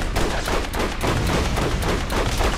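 Rapid automatic gunfire rattles continuously from the shooter game Borderlands, a loud dense burst of repeated shots with no pause and no talking.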